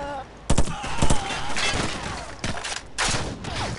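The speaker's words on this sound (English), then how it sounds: "Give me some covering fire" Bursts of automatic gunfire in Call of Duty 4: Modern Warfare, loud and close, coming in several rapid clusters with brief gaps between them amid battle noise.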